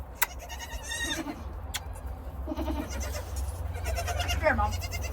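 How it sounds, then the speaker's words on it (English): Baby goats on a homestead bleat in a few short, wavering cries over a steady low background hum, fairly close and moderately loud, with no talking. "I am short 2 baby goats"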